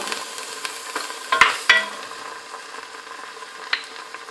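Black chickpeas being stirred and fried in a pan on a stove, with soft scraping stirs and a few sharp spoon clatters over a faint sizzle, close and alone.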